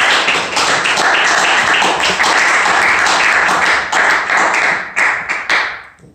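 A church congregation applauds after a prayer, with dense, steady clapping that fades out at the end.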